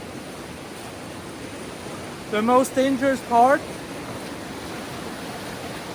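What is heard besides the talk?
river water flowing on a log rafting trail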